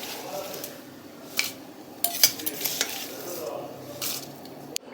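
Spoon stirring ghee-tempered cashews, cumin and pepper into pongal in a cooker, with soft scraping and a few sharp metallic clinks against the pot over a quiet kitchen background.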